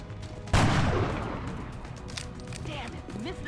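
A sniper rifle in the video game XCOM: Enemy Within fires one loud, sharp shot that rings out and decays slowly, followed by faint game sounds and a voice.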